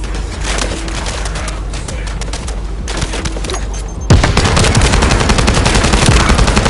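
Rapid gunfire rattles through an online video game, dense automatic bursts that swell sharply louder partway through and continue without any talk.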